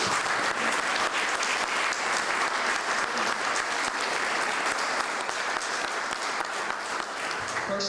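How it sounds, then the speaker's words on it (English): Steady, dense applause from an outdoor crowd at a ribbon cutting for a new barn pavilion on a farm, sustained and even throughout the whole stretch without pause. "if we could give him a round of applause for that"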